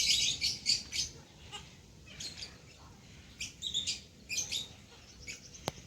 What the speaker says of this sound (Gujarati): આ છે લવબર્ડ